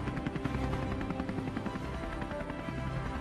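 A cartoon helicopter hovers in midair with a loud, continuous rotor throb and rapid, even chopping that never lets up, heard alone with no voices.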